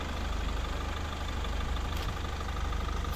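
A Mercedes-Benz Vito W638 van from 2000 with a 2.2 CDI diesel engine and five-speed automatic gearbox idles steadily, its low, even diesel rumble close and continuous throughout.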